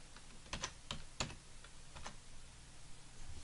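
Keys tapped on a computer keyboard while a password is typed in to mount an encrypted drive, a few separate clicks spread irregularly over a quiet room background, fairly close and soft.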